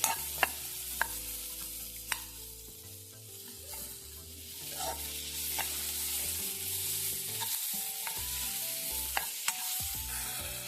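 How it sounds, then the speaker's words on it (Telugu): Onions frying with a pinch of salt for vegetable upma, giving a steady soft sizzle with a few sharp utensil taps against the pan, close and fairly quiet, with no voices. "సో చిటికెడు సాల్ట్ వేసుకొని ఆనియన్ ఫ్రై అవ్వనివ్వాలి"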